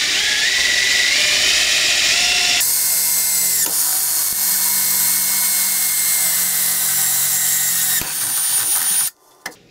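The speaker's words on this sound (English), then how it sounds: "we're gonna drill some brand new holes" A power drill whines loudly and continuously, changing pitch as it bites into the metal of a barbecue grill, then stops abruptly with a brief final burst.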